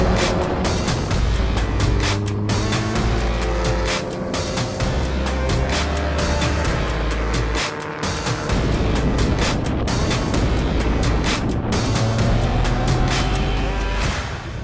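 A Volkswagen Golf TCR race car on Davanti Protoura race tyres during a test at Silverstone Circuit, its engine roaring loud and close throughout, pitch rising and falling through gear changes with brief dips between, no talking.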